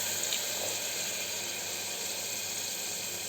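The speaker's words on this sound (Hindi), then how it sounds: "और ये डाल दूँगी मैं इसमें पानी," Water streams steadily into a cooking pan holding tomatoes, a continuous close hissing pour with no talking over it.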